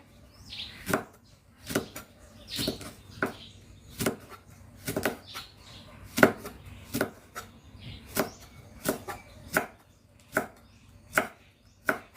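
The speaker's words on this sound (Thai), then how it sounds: "ต้องหั่นผักก่อนเพราะว่าถ้าหั่นปลาไหลก่อนอะเลอะแน่เลย" A knife chops vegetables on a board before eel is cut for a Thai stir-fry, with about fifteen crisp, close strikes in a steady, slightly uneven rhythm and no voices.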